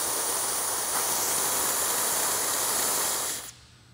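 Loud, steady steam hissing from a steam boiler's tricock rushes for about three seconds, then cuts off abruptly, leaving a faint background hum.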